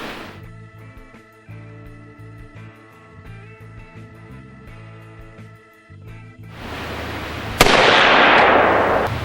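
An AR-15 rifle fitted with a Sector Defense MCS-4H muzzle brake fires a single sharp, loud gunshot near the end, after a stretch of tonal background and rising noise, with no talk during the blast.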